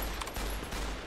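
Gunfire rattles in Fallout New Vegas, a quick burst of rapid overlapping shots packed into about a second, dense and fairly loud.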